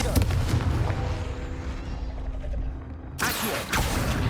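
Blasting spell cast in the Hogwarts Legacy video game, a heavy rumbling blast that decays slowly and is followed by a sharp second burst near the end, with a voice heard over it.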